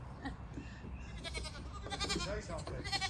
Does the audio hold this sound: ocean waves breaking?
no